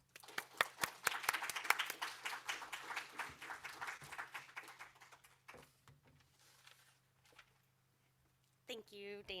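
An audience at an academic social work colloquium claps in welcome for an invited speaker, a burst of many hands that fades out over several seconds, followed by a pause before a voice begins speaking.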